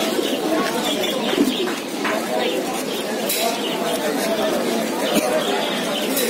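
Siraji pigeons cooing at a busy pigeon market in Mirpur, their soft coos and bird chatter mixed into a dense crowd hubbub with people talking nearby.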